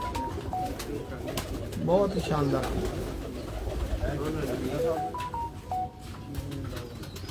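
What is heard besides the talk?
pigeons cooing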